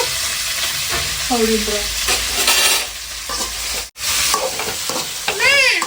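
Mustard seeds and raw mango fry in a pan for mango thokku, giving a loud, close, continuous sizzle with scraping stirring throughout, while a voice speaks briefly over it.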